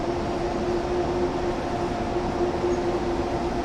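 A train runs steadily in the Train Sim World game, a continuous rumbling drone with a faint sustained whine, loud and unbroken, no voices.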